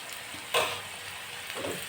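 Chopped onion and turmeric sizzle in hot oil for a bhindi dish, with a sudden loud hiss as the spice goes in. The hiss eases into a softer frying crackle, and a second burst follows as the mixture is stirred.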